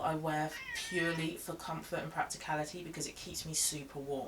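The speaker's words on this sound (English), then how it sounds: "that's my cat, he's probably hungry" A hungry pet cat meows repeatedly in a home while someone talks steadily over it, the cries partly buried under her voice.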